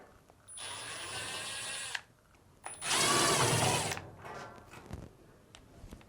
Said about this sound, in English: Using a Phillips screwdriver, we can now remove these two Phillips screws to remove the front panel.